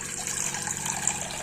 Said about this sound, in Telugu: కొన్ని వాటర్ నింపుకుందాము.